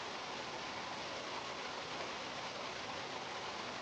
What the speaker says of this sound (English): The Bordalsgjelet Gorge Waterfall is a spectacular sight, where water cascades down rugged cliffs, creating a symphony of sound and a captivating visual display.